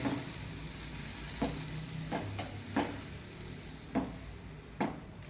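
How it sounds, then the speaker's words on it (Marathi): Garlic fries in a pan with a soft continuous sizzle while a spoon scrapes and turns it in several separate strokes. "आता आपण खालीवर करून घ्यायचं एकदा म्हणजे खालचा जो लसूण आहे तो हे होणार नाही"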